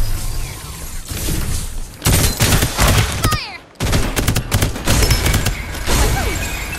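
Rapid gunfire bursts from the video game Farlight 84, loud and dense with a brief break in the middle, over a constant background of game effects.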